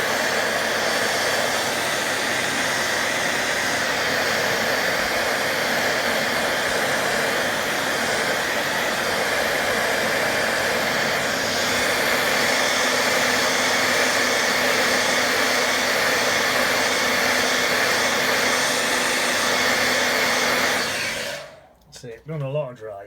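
A hair dryer blows continuously at close range, a loud, steady roaring whoosh that holds unchanged for about twenty seconds before switching off abruptly, leaving a short moment of quiet handling sounds.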